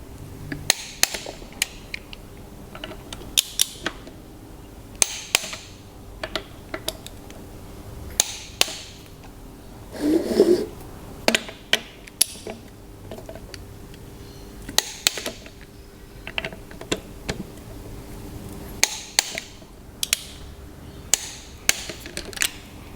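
Torquing the crankshaft connecting rod end cap bolts on an Evinrude 150 outboard engine: sparse metallic clicks and ratchet ticks, close and fairly quiet, spaced irregularly over a low background.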